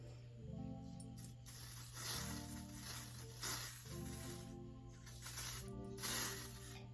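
An aerosol spray is applied to a body wave lace wig in about four short hissing bursts, separated by brief pauses, over a faint steady background hum and tones.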